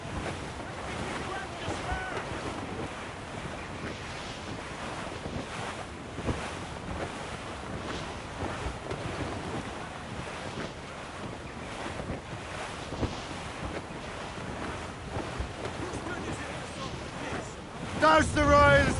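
A sailing ship under way at sea in Assassin's Creed Rogue, with steady wind rush and waves washing against the hull throughout, and a louder surge near the end.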